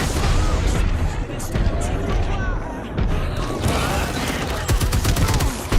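Spitfire light machine gun firing in the video game Apex Legends, loud rapid bursts of gunfire with booms and crashes, mixed with game voices and clutter.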